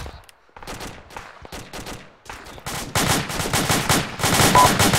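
Sustained gunfire from a firefight returning fire at an enemy behind a rock wall: bursts of rapid shots that grow denser and louder toward the end, with no talk.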